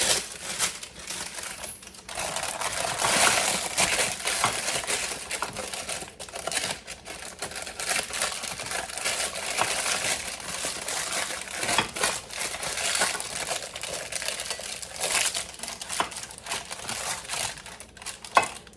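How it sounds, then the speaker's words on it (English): Parchment paper is crumpled by hand in a baking kitchen, a dense, continuous crackling and crinkling that runs loud and close for most of the stretch with brief pauses. "if you crumble up your parchment paper, it won't bounce back up."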